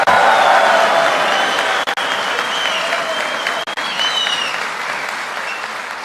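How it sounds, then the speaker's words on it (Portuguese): Sustained applause from a large crowd at a ministerial swearing-in ceremony in Brasília, loud and steady throughout with a brief dip partway, alone without speech. "Vocês viram como você ia arrancar aplausos"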